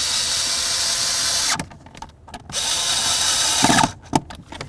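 Power drill driving mounting screws while replacing a brake light switch on a 1994-2004 Chevy S-10, two long loud whirring runs separated by brief pauses, ending with a few short bursts.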